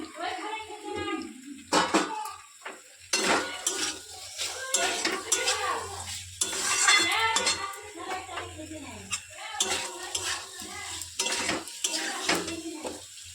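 Vegetables frying in oil in a pan, stirred with a utensil that clanks and scrapes against the metal repeatedly and close up, with a faint sizzle underneath and someone talking throughout.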